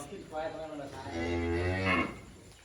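Cattle being loaded onto a ten-wheel truck let out one loud, drawn-out moo lasting about two seconds, close by and clear, with no talking over it.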